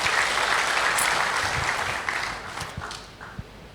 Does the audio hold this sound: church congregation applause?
yes